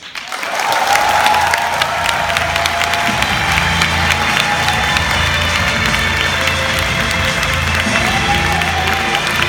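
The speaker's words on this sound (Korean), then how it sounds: "다시 한번 큰 박수 부탁드리겠습니다" A large crowd at a Korean Nu Skin business lecture bursts into loud, dense applause that swells in the first second and then holds steady, with light cheering mixed into the clapping.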